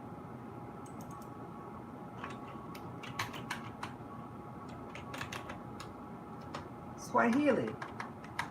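Soft taps on a device keyboard, scattered clicks in irregular bursts, quiet and close under low background hum, followed by a short spoken word near the end.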